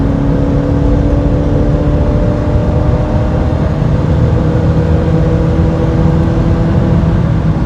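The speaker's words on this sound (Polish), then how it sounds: "Trochę mu przycisnę. Skrzynia dosyć szybko reaguje na redukcję." Inside a Honda Odyssey RA 4x4 minivan with a four-speed automatic, the engine hums and rises steadily under acceleration, a loud continuous drone mixed with road and wind noise.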